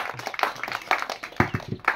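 An audience at a balloon-popping game claps in a quick, uneven patter of hand claps that carries on steadily and sounds fairly near.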